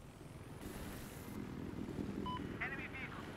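A Little Bird helicopter in Battlefield 4, a steady whirring rotor drone under game sounds and voices, with a few short beeps and warbling tones near the end.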